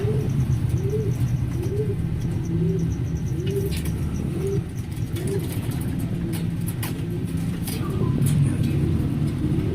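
A breeder hen pigeon coos in a repeated, rhythmic series of low throaty calls, fairly close, with steady background engine and traffic noise underneath.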